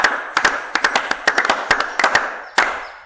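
Applause from a church congregation, with a sparse group of hands clapping in irregular bursts that gather and thin over a few seconds, fairly close with a roomy tone.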